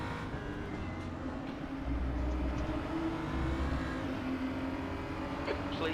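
Race cars roar and accelerate in a racing video game, a steady dense engine drone with rising revs, heard close and continuous with no talk over it.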